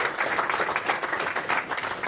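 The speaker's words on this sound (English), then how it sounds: "Please, big round of applause." An audience at a Rust programming conference talk claps steadily for the next speaker, a thick, even patter of many hands at moderate loudness.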